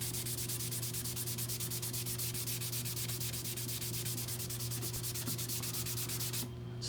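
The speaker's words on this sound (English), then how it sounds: "See if I can rub it in a little better." Leather dye, turquoise or navy Angelus, is rubbed into a wooden piece for luthier work, producing a continuous, close, rhythmic scrubbing and rasping that holds steady before cutting off near the end, with a constant low hum underneath.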